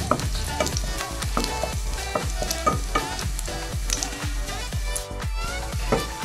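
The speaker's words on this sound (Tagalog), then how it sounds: "Halo-halo lang hanggang sa mag-brown ang ating bawang." Garlic fries in a pan with a loud, steady sizzle while a utensil scrapes and stirs in a regular rhythm, clinking against the pan roughly twice a second.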